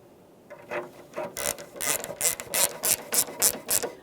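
A socket wrench starts headlight mounting screws on a 1994-2001 Dodge Ram 1500, giving close, loud ratcheting clicks that begin sparse and build into a quick, regular series of sharp pawl strokes.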